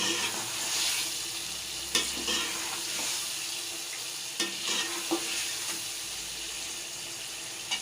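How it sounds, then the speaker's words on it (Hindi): Fish pieces sizzle as they are fried and stirred in spiced masala for a fish curry, a steady frying hiss with occasional scraping knocks of the spoon against the pan, close and without talk. "फ़िश को अच्छी तरह भून लेना है"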